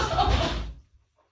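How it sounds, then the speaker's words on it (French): A heavy door struck in a Halloween horror game, a single loud dull thud with a short resonant tail that cuts off quickly into silence. "quelqu'un frapper une porte"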